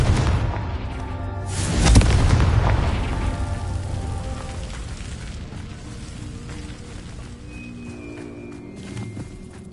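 A Confringo fire spell explosion in the Hogwarts Legacy video game, a loud booming blast that swells and then fades into a long crackling, rumbling tail.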